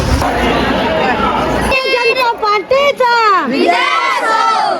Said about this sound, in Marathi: एवढी गर्दी एवढी गर्दी आहे